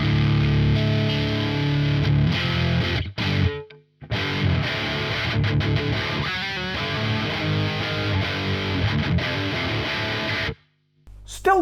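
A Marshall Mode Four solid-state amp on its crunch channel plays loud, distorted high-gain electric guitar behind a noise gate. The playing is steady and dense, with two brief cutoffs to silence.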